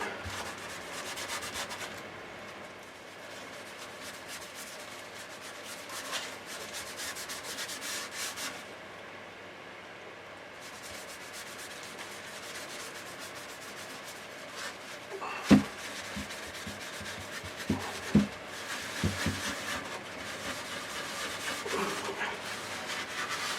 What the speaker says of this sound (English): the grain filler will need sanding